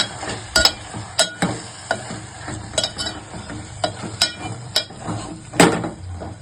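Mint chutney ingredients with tamarind, turmeric and oil are stirred in a pan: a spoon scrapes and knocks against the metal in repeated strokes over a soft, steady sizzle, close and fairly loud.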